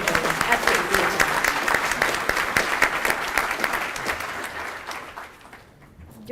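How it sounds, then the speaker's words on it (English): Audience applause at a Public Service Recognition Week ceremony, steady dense clapping sustained for several seconds before tapering off near the end. "another round of applause for Serenity"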